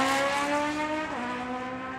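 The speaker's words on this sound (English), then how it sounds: "RPMs come up, and it's a double green light start" Drag racing cars launch off the start line at Tucson Dragway, a loud sustained engine roar with harmonic tones that shift in pitch as they pull away.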